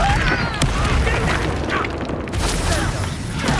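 The Confringo explosive spell going off in the video game Hogwarts Legacy, a loud fiery boom with crackling bursts amid a dense mix of combat noise.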